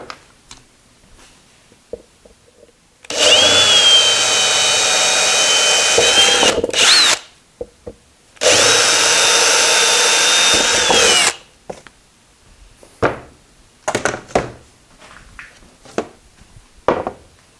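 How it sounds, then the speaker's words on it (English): A power drill whines through two long bursts while boring a hole in a part of a Wimshurst machine, a loud motor tone close up, followed by scattered clicks and handling knocks. "I'm going to drill a hole right here."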